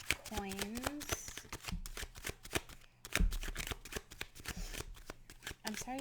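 Tarot cards shuffled by hand in quick rapid riffles and slaps, close and crisp, with a person briefly talking over part of it.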